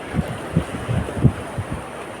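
Sea waves wash against the shore at a mangrove park boulevard, a steady outdoor rumble broken by soft low surges about every half second, with wind buffeting the microphone.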